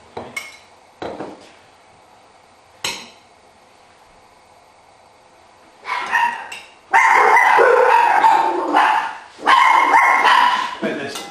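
A dog barks in loud bursts, first a few sharp single barks and then a louder, more continuous run of barking, heard in a kitchen where someone is making Chinese stuffed pancakes.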